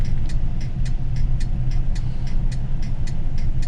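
Steady engine drone and road rumble from inside a moving Rover P4 on a Sunday drive, continuous and fairly loud, with faint regular ticking throughout and no voices.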